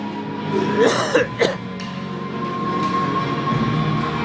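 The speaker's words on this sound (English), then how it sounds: "Sorry to cough into the camera there." A couple of sharp coughs close to the microphone over a steady background hum at an under-11 ice hockey game, followed by continued low rumbling.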